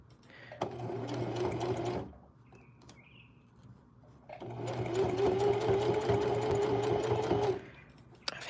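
A Juki industrial console sewing machine stitches a hem on jeans, two sustained bursts of steady motor hum with rapid needle chatter, close and fairly loud, separated by a quiet pause with faint chirps.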